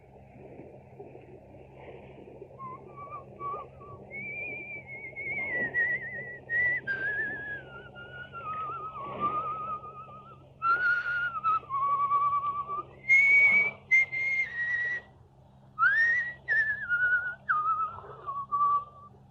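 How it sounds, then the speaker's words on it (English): A man whistles the tune Annie Laurie in a series of melodic phrases with gliding notes, fairly close, over a low steady hum. "He will pass the word Blackstone and whistle Annie Laurie."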